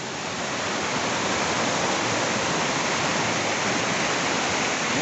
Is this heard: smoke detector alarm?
no